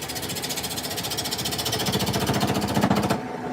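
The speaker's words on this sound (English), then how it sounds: "We actually want to drill our hole." A power drill bores a hole into a small wooden miniature birdhouse, giving a steady, rapidly pulsing buzz that builds slightly before cutting off abruptly near the end.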